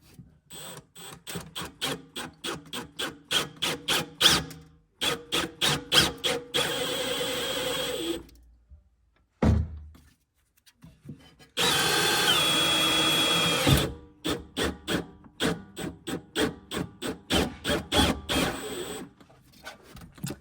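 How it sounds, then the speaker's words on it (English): A power drill whirs through carpet and a Lamborghini's floor in short repeated bursts, with two longer continuous runs in between, close and fairly loud with brief quiet gaps. "I'm just going to drill right down through the carpet."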